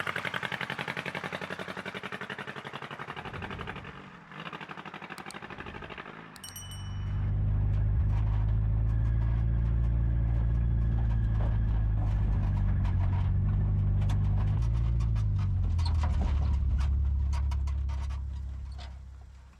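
A restored old car, an abandoned clown car brought back to life, rumbles on a test drive, its engine drone steady and loud after a brief shuffle of lighter noises at the start.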